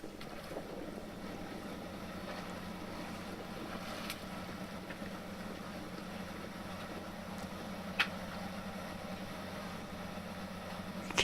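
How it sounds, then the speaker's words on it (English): Boat engines idle out of gear during a cruise to winter storage, giving a quiet, steady low hum with wind noise over the microphone. "Kicked the engines out of gear here and kind of stopped."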